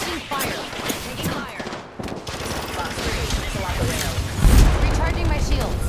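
Dense bursts of automatic gunfire from the battle royale game Apex Legends, rapid and loud, layered over one another in near-constant volleys while a game voice speaks over the fighting.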